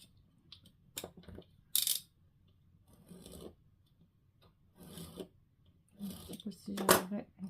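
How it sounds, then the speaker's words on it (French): Paper corners trimmed for a Christmas forest scrapbook album: several separate short rasping cuts and rubs at close range, with quiet pauses between them and soft voices here and there. "Je vais couper mes coins."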